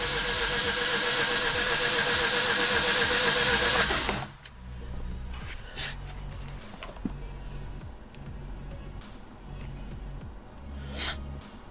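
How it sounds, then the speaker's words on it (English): A Mazda RX8 race car engine cranks over with the throttle held open during a compression test, a loud rhythmic starter whir for about four seconds, followed by quieter clicks and handling noises. "open the throttle fully, and then just crank it"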